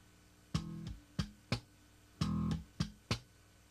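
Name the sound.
slap bass: thumb, left-hand click and pluck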